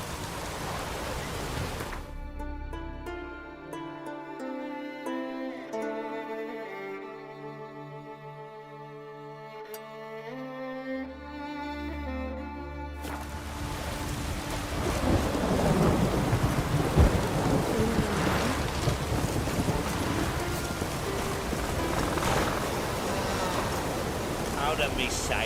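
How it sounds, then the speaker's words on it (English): Heavy rain pours steadily with rumbling thunder in The Witcher 3: Wild Hunt video game, after a quieter stretch of gentle music; the downpour grows louder and denser in the second half. "Raining fucking buckets."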